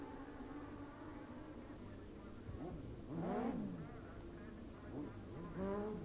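Nitrous-fed Suzuki and other racing streetbikes snarl past at Blyton circuit in 1990, their engine notes rising and falling as they approach and pass, a little distant and under commentary.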